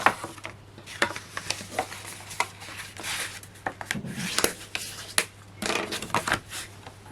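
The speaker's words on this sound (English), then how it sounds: "I'm just going to burnish all of those score lines down first of all." A tool rubs repeatedly along score lines on craft card, making soft, irregular scraping strokes in quick bursts, close and quiet with no talk.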